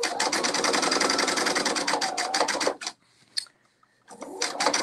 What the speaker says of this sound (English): this cotton fabric works well with a top stitching